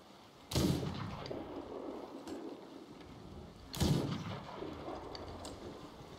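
Two heavy booming shots in the pirate game Sea of Thieves, each a loud blast a few seconds apart, trailing off into a rumbling decay over faint background ambience.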